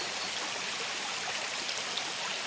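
A forest stream flows steadily nearby, a soft, continuous rush and trickle of water with no voices.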